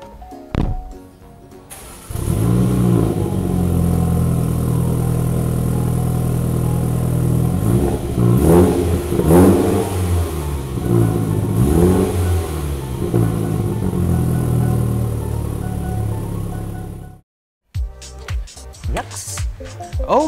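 A 2021 Mini Cooper John Cooper Works facelift engine cranks and catches, idles loudly up close, then gives several sharp revs before switching off. Brief sounds follow the shutdown.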